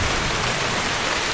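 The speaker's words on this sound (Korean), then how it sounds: "이런 POV 컷도 실제로 비가 오고 있는 중이고" Heavy rain pours steadily during an outdoor film shoot for a thriller, a dense, even hiss of downpour filling the whole moment with no voices.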